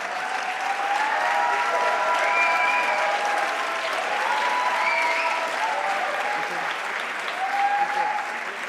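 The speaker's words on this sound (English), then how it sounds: "Let's give him a round of applause." Sustained applause from a conference audience, an even crackle of many clapping hands that keeps going for several seconds with a faint murmur from the crowd underneath.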